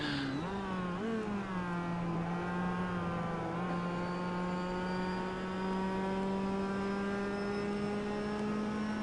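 Mazda MX-5 race cars in a club racing event at Homestead run through turn 8, a steady sustained engine drone with a slowly shifting pitch, continuous and moderately distant, with no voices.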